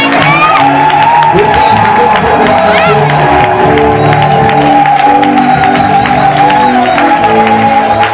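A church congregation cheers and acclaims loudly and continuously, with shouts, whoops and clapping merged into a dense crowd roar.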